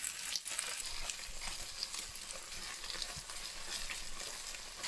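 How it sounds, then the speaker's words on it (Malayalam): Chicken pieces for kandhari chicken pollichathu frying in a pan, a steady, dense sizzle with crackling spatters that continues close-up throughout, with no voices. "ചിക്കൻ ബാക്കിയുള്ളത് കൂടി ഞാൻ വറുത്തെടുക്കുകയാണ്"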